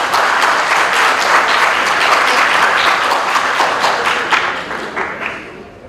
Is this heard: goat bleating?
no